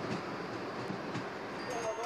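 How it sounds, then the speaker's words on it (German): An old passenger train, decommissioned by Deutsche Bahn decades ago and now running in Bulgaria, gives a steady rumbling roll from inside the carriage with faint clicks over the track, constant and moderately quiet. "Die Züge wurden vor Jahrzehnten schon von der Deutschen Bahn ausgemustert."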